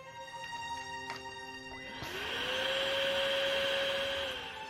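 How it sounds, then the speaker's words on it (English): A vacuum cleaner switches on in a video game, its steady whine rising after a few soft clicks and then holding level over a low background hum. "She pulled out the vacuum cleaner."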